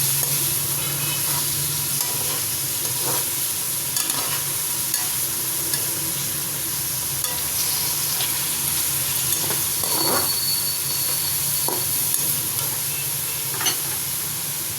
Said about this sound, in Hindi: चिकन वाइट होने तक इसको भून लेते हैं ताकि इसकी स्मेल ख़त्म हो जाए।